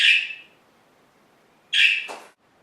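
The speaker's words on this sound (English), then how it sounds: "next to some birds that are yelling." Loud bird calls outdoors: two sharp squawking cries separated by a pause, the second followed by a harsher rasping note, close and clear against quiet background.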